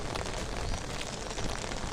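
Rain falls steadily on a surface outdoors, a dense, close hiss of drops with no break, heard while walking on a rainy path.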